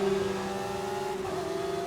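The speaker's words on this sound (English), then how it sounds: "A V12 sounds incredible." Lamborghini Aventador V12 engine in Forza Horizon 5, a loud steady high-pitched drone held under load, with a brief pitch shift near the end, no voices.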